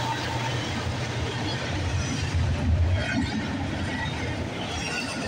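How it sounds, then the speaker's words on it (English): A westbound CN train with locomotives 8844 and 8832 rumbles past Georgetown GO Station, a steady low roar of wheels and engine filling the whole stretch at constant volume. "we got a CN westbound train coming down the line"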